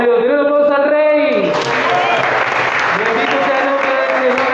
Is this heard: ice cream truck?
no